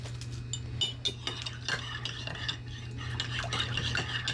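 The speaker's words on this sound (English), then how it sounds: "I wanted to give it a nice stir to separate it." A spoon stirs bubble tea in a cup, giving repeated light clinks and scraping swirls at a steady rhythm. The sound is close and moderately loud, with no talking.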